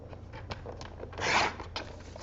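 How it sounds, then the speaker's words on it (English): Scissors or a paper trimmer cutting through card stock for handmade background paper, a few soft rasps and one longer, louder cutting swipe near the middle, close and with no talk. "then we're going to cut it again at 5"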